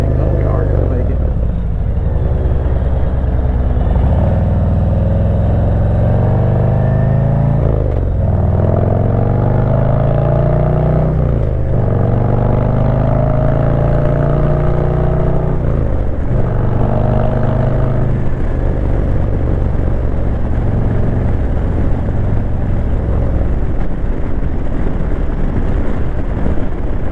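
A 2025 Harley-Davidson Road Glide motorcycle cruising in cruise mode, its steady engine and road drone running continuously and loud beneath a rider talking throughout.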